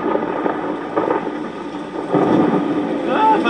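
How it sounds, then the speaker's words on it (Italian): A cartoon jungle thunderstorm rumbles with low, rolling thunder and a constant wash of rain and wind, growing heavier toward the end. "Oh no, il temporale!"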